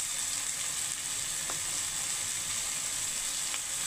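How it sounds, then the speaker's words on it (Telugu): Tomato pieces fry in a pan with salt and pepper powder, giving a steady, even sizzle throughout with a few faint stirring clicks and no voices. "జస్ట్ దాంట్లో వేసేసి అట్లా ఇట్లా వేగిస్తే చాలు."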